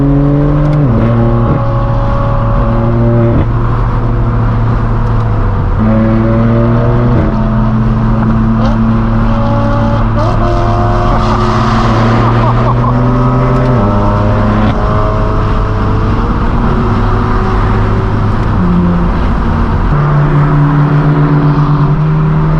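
A straight-piped BMW M4 F82 driven hard on a hot-weather supercar rally, its loud raw exhaust rising and falling through repeated gear changes for over twenty seconds with no talk.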